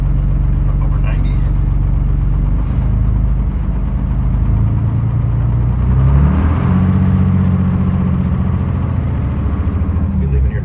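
Cabover truck engine idling loud and close as air brake pressure builds, a steady low diesel rumble with a rising rev partway through, while someone talks over it.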